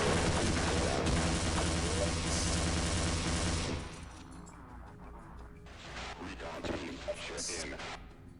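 Dense gunfire crackles in Half-Life, loud over a steady backdrop for a few seconds before dropping to scattered, quieter shots and impacts.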